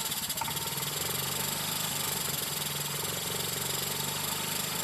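A motorcycle engine runs steadily with the gas throttle held open during a decarbonizing clean of the combustion chamber, giving a loud, continuous mid-pitched drone that holds from start to finish without pause.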